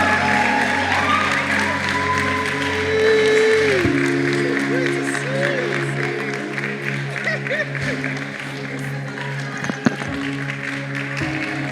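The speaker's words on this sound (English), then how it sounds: "can we clap for Queen Mira?" An audience at a foundation gathering claps for Queen Mira, a moderate, sustained patter of applause from a crowd, mixed with a loud steady hum and some tapping and movement noises.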